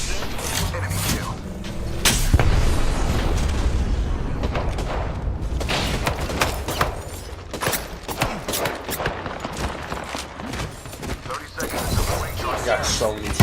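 Grenade blasts and gunfire in Apex Legends, loud booms and bursts of shots through a busy firefight, with voices talking over the action throughout.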